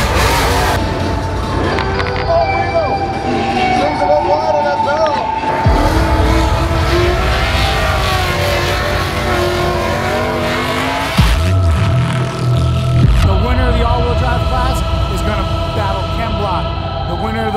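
Drift cars at a Monster Energy Gymkhana Grid drift battle in the UK: loud engines rev and roar, with long tyre squeals and skids, heard close and continuously.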